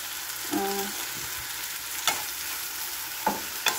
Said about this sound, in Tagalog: At dito ay lagyan na po siya natin ng